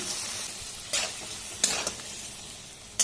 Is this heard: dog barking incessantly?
no